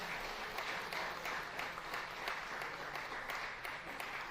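An audience applauds a steel pan band, with a dense, continuous patter of many hands clapping, fairly faint and steady throughout.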